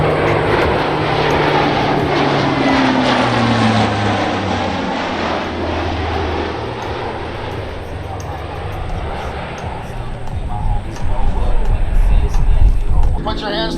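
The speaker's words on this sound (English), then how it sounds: "From the right, from your Royal Canadian Air Force, C-130J Herc." A Royal Canadian Air Force C-130J Hercules turboprop drones past at an airshow, its loud propeller roar steady with a slowly shifting pitch as it passes, under faint crowd chatter and a public-address voice.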